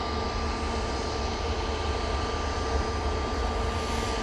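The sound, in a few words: Airbus A319 airliner departing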